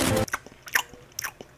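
A crisp bite into food, a sharp crunchy burst at the start followed by a few softer chewing crunches, close and fairly quiet in an animated cartoon scene.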